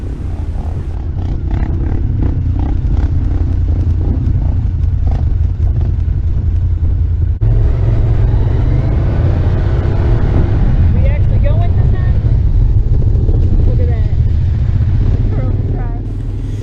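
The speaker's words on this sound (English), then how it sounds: "let's watch my husband do a couple donuts" A side-by-side UTV does donuts on the sand dunes at Dumont Dunes, its engine roaring loud and steady throughout with revving swells and a sharp change midway, while people talk faintly underneath.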